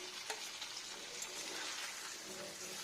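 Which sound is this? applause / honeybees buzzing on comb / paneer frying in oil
paneer frying in oil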